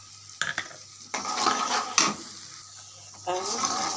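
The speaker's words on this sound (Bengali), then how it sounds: "এর মধ্যে আমি দিয়ে দেবো হলুদ মরিচ আর জিরা সাজের গুঁড়ো" Turmeric, chili and cumin powders fry with onion and garlic in a pan, a close sizzle punctuated by several sharp spatula scrapes and clanks against the metal, with a voice speaking briefly.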